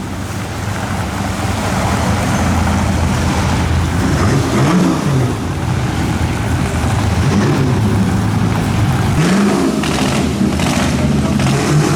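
A vintage Auto Union racing car engine roars and revs loudly and continuously, with throaty rising and falling pitch sweeps, some voices faintly underneath.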